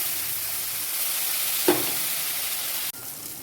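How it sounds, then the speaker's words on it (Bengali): Spices fry in a pan for a hilsa fish curry with potato and eggplant, an even, moderate sizzle with one short stirring scrape midway and a sudden drop near the end. "মশলা ভালো করে কষিয়ে নিলাম"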